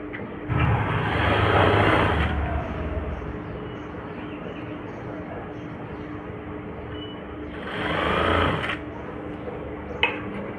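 Sewing machine stitching cloth at home, running in two bursts of rapid mechanical whirring separated by a quieter stretch of room hum, with a sharp click near the end.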